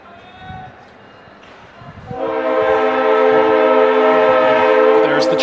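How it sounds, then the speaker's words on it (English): A 9 p.m. locomotive passes near a high school baseball field at night, starting as a low rumble and swelling into a loud, sustained blast of its horn that runs to the end. "There's the train."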